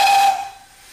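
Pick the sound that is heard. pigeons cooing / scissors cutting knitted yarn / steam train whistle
steam train whistle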